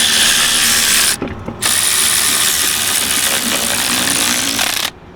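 A ratchet with a 17 mm socket spins wheel nuts onto an e36 BMW M3 wheel, a loud, fast continuous clicking heard close, broken by one short pause.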